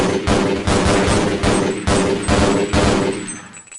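Rapid bursts of rifle fire in the Half-Life: Blue Shift shooter game, several loud close volleys in quick succession with brief gaps, fading at the end.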